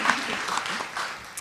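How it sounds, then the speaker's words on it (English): An audience at a conference applauds its panelists, a short burst of steady clapping in a hall that fades toward the end. "Let's get them one more round of applause"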